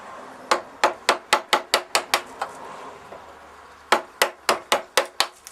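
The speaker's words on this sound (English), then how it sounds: "then use a mallet." A mallet drives a wood chisel while cutting a tee halving joint, sharp crisp knocks struck in a fast even run of about nine, a short pause, then another quick run of seven.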